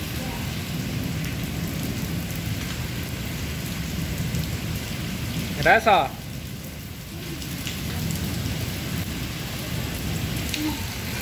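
Steady rain hissing on a surface throughout a storm in a Pakistani village, with a brief voice cutting in near the middle; no distinct thunder clap stands out.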